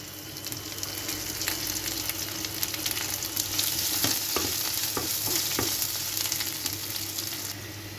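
Onion, green chilli, ginger and curry leaves sautéing in a pan for Kerala-style uppumavu, with a continuous loud sizzle and a few sharp spatula scrapes in the middle and no voices.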